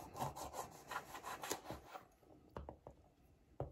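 A knife slices washed lemons in half on a board, giving a run of rasping, sawing strokes for about two seconds and then several separate soft cuts and knocks, close and without talk.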